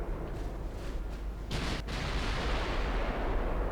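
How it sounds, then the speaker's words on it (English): Torpedo detonation against a warship in Ultimate Admiral Dreadnoughts: a deep, rumbling blast surges up midway through a low roar of sea and battle noise, with no talking. "We've got a torpedo detonation."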